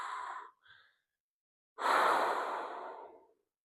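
A person breathing during a pelvic floor exercise: a short exhale, a small catch of breath, then after a pause one long, loud, sighing breath that slowly fades, close to the microphone.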